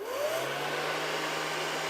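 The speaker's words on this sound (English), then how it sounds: "Let's connect it in series with another hairdryer." A hair dryer wired in series with a second hair dryer acting as a resistor, giving a steady broadband whoosh with a low motor hum, continuous and close throughout, no talking.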